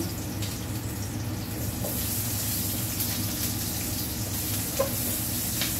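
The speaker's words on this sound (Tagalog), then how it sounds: "igigisa ko ng aking laing. Lagay ko na ang bawang." Garlic sautéing in a pan as the first step of laing: a continuous close sizzle of hot oil with soft crackles and a brief pop near the end, steady throughout and free of talking.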